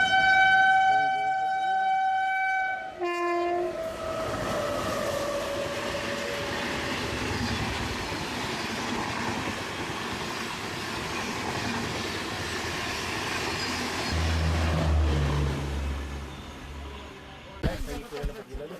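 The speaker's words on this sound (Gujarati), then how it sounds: "અત્યારે હાલ એક ટ્રેન આવી રહી છે અમારા સાઈડના ટ્રેક ઉપર" A train sounds a long horn, then rolls past close by with a steady rumbling clatter that builds and fades, ending in a sharp clank.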